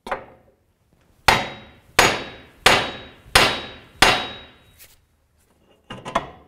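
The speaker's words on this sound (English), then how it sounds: "Now with a hammer, you're going to hit the knuckle part" Metal rings out as a hammer strikes the steering knuckle of a 2005-2009 Subaru Outback front suspension, five sharp, evenly spaced blows in a row, then a couple of quicker hits after a pause.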